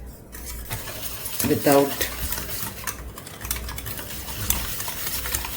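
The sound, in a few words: mixing flour and ingredients in a pan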